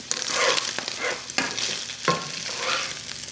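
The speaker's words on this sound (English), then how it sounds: "I want this bacon to get close to crispy, but I don't want it crunchy, like hard crunchy." Bacon fries in a coated steel pan, a loud crackling sizzle with occasional metal utensil scrapes and clicks, close and steady throughout.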